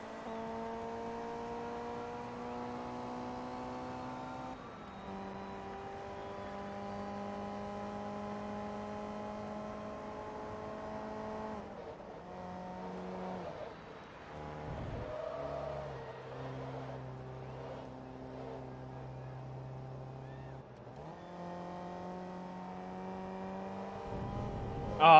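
A race car engine in Forza Motorsport 2 drones steadily, its pitch stepping up and down as it revs through gears, continuous and fairly loud with no voices.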